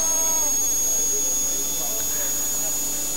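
A model jet turbine, a RAM 750 in a radio-controlled jet kit, runs with a steady, loud high-pitched whine and roar that holds throughout, with a voice talking over it.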